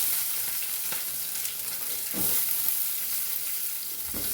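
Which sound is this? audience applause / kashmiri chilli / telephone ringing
kashmiri chilli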